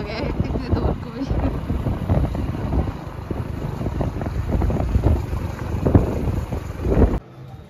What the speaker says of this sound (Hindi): ठंडी ठंडी हवा लग रही है बाइक पर, ठंडा सीधे हवा लगे।